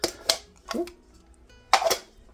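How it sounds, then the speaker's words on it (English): Chopped onions tipped into a crockpot in a home kitchen, a few sharp clattering knocks and scrapes of a container against the pot, spaced apart and fairly close. "Let me go ahead and add in some onions"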